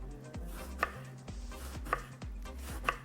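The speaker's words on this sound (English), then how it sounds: "I'm going to chop it into circles" Knife chopping a fully peeled eggplant into rounds on a board, three or four distinct solid thunks spaced about a second apart, close and clear with no talking.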